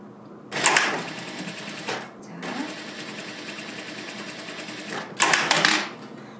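Sewing machine stitching the shoulder seams of a dress, rapid mechanical clatter in three bursts with short pauses between, close and fairly loud.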